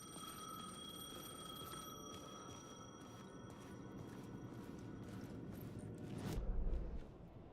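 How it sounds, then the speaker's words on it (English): A payphone rings in the Alan Wake game. The electronic ringing tone holds steady and quiet against a low background hum, then swells briefly near the end. "The payphone was ringing."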